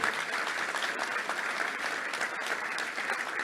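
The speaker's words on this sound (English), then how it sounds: "Let's give a round of applause to Stephen Riffle, the new director." A luncheon crowd at a touchdown club meeting applauds a newly introduced executive director, producing dense, continuous clapping at an even level for the whole stretch.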